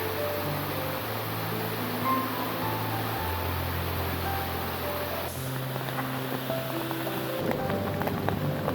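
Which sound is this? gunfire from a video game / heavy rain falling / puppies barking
heavy rain falling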